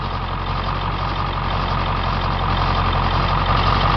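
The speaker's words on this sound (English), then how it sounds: "The engine sounds good." A Ford F350 4x4 government snowplow truck with a 7.3 diesel engine idles steadily, a loud, close, even low rumble with diesel clatter throughout and no talking.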